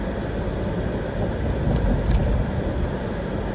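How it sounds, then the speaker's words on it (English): A car drives down a snowy country road the morning after a snowstorm, giving a steady, low road rumble and engine drone from inside the cabin, with no talking. "I'm driving down a country road, checking out how bad the snow."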